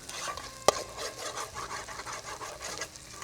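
A ground spice paste sautés in butter in a pan, a soft continuous scraping and stirring with a faint sizzle underneath and one sharp knock of the utensil early on, fairly quiet and without talk.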